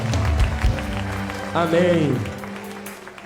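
A church congregation applauds over sustained keyboard music, and a voice calls out partway through.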